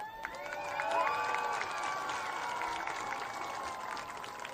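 An outdoor audience applauds band parents and community volunteers at a band event, a distant, steady patter of many hands with some cheering mixed in, while sustained tonal notes ring over the clapping.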